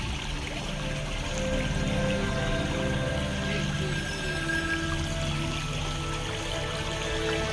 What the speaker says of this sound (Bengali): জঙ্গলের মধ্যে একটি ঝর্ণা